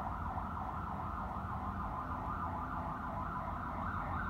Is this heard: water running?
no